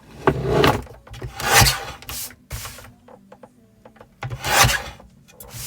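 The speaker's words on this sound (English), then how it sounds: "So I'm going to go up to that top left hand corner, yeah, and then trim. Trim that excess." Excess material is trimmed away at the top left corner of a handmade advent calendar door, heard as four separate scraping, rasping strokes, close and fairly quiet, with short pauses between them.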